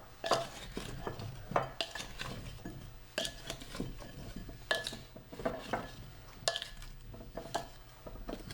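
Vegetables with cloves and seasonings being tossed in a bowl, with repeated clattering knocks and scrapes of utensils against the dish in an irregular rhythm, close and fairly loud, no talking.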